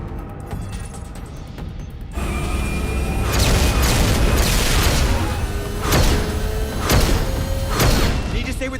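Spaceship weapons firing on a Skycar in the Mass Effect 3 game: a series of loud booming blasts repeating every second or so over a dense rumbling roar, with voices talking throughout.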